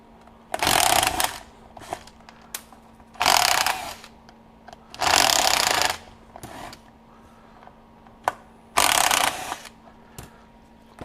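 A Ridgid 12-volt driver backs screws out of the cover on a Milwaukee M12 Fuel 8-inch hedge trimmer at a bench, four loud whirring bursts of roughly a second each with quiet gaps and small clicks between.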